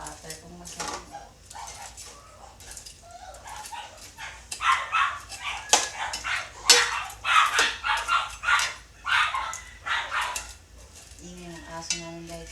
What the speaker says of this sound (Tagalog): Nag-aaway na naman yung aming mga aso.